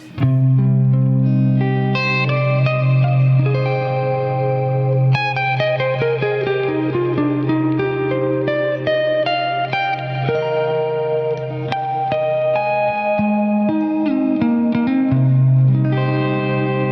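A clean electric guitar through a Neural DSP Quad Cortex amp modeler plays ringing chords and single notes with chorus and reverb, sustained and bright, no voices.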